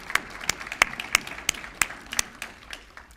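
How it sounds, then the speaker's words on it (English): A handful of people clap at a community beautification awards event, sparse and uneven, with distinct separate claps at a moderate distance rather than a full roar. "Please, a round of applause for these beautiful efforts."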